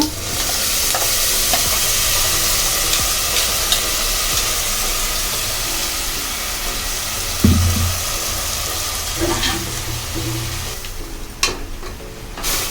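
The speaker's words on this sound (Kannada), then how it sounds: "ಇವಾಗ ಮಸಾಲೆ ಫ್ರೈ ಆಗ್ತಾ ಇದೆ." Masala paste with mint paste sizzles in a pan for prawn biryani, a loud continuous fry hiss with occasional stirring knocks and a few sharper clatters near the end, no talking.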